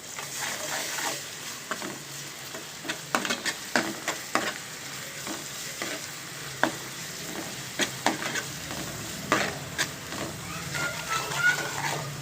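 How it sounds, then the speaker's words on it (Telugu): Onions frying in a pan with ginger paste for egg curry: a constant sizzle under repeated scraping and clacking stirring strokes, close and busy, with no talk. "ఇప్పుడు ఇవి వేగుతూ ఉంది కదండి, ఉల్లిపాయలవి కొంచెం అల్లం పేస్ట్ వేసుకుందాము సరిపడా."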